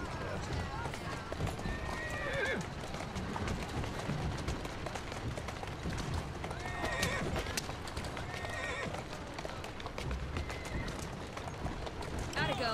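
Horse hooves clop steadily while horses whinny now and then in Assassin's Creed Syndicate, with a voice talking over the game sounds throughout.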